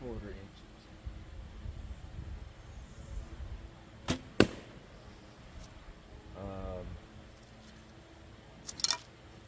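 A traditional bow looses arrows of about 585 grains, cut to roughly 29 3/4 inches, at a woodchuck target with a balloon, giving a sharp release snap then a thwack on the target, with a second faint pair of hits later, over quiet outdoor background.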